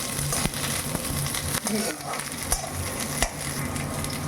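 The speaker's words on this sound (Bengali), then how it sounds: "এখন আমি এই তেলটার মধ্যে একটা ক্যাপসিকাম কেটে রেখেছি চৌকো চৌকো করে, এই ক্যাপসিকামটা ভেজে নিচ্ছি।" Diced capsicum frying in oil for a cauliflower curry, a steady close sizzle with scraping stirs and a few sharper clicks of a utensil against the pan.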